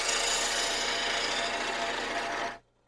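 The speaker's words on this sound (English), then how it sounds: "Then he sands away any sharp edges." Sandpaper rubs steadily along the sharp edges of wooden toy tugboat pieces, a continuous close, loud rasping scrape that runs without pause before stopping abruptly.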